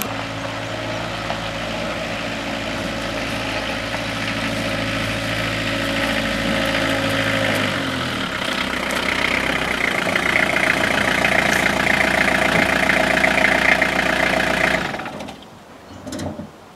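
A 2000 Renault Master's 2.5-litre Sofim diesel idles steadily and loudly close by, its note shifting and firming partway through before the engine cuts off near the end.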